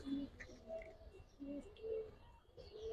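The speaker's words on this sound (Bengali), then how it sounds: "দেখেন ভাই, কবুতর দুইটা" Giribaz high-flyer pigeons, including brown-necked birds, give soft, low repeated coos in a few short bursts, close by and fairly quiet, with faint background murmur.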